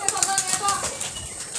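Pigeons, a flock of mixed local and foreign breeds let out of their loft in the morning, beat their wings in a close, rapid flutter of repeated flaps that runs through the whole moment.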